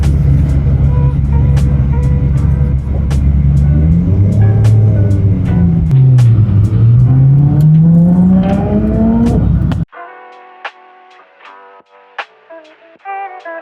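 A sports car engine revs loudly, its pitch dipping and then climbing steadily for several seconds before cutting off abruptly into quieter tones.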